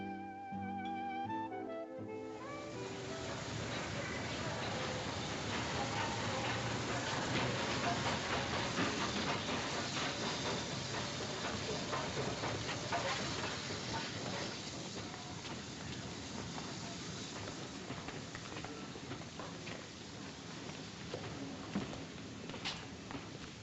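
A steam train in a 1948 film soundtrack hisses and chuffs at moderate distance, a long continuous rush of steam with mechanical clatter, following a brief stretch of orchestral music at the start.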